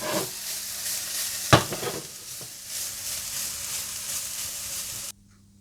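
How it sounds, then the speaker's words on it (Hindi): Carrots fry and get stirred in a pan for carrot zarda, giving a steady close sizzle with spoon scrapes and one sharp clack from the utensil, then cutting off abruptly. "जब गाजरें थोड़ी भुन सी जाएं और थोड़ी नरम सी हो जाएं तो आप इन्हें चूल्हे से उतार लीजिएगा।"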